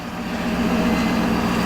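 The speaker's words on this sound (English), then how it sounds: "the truck is basically doing its high idle thing again" A 2024 Ford Super Duty pickup sits at high idle, its engine giving a steady, even low drone with a constant hum that holds level throughout, with no talking over it.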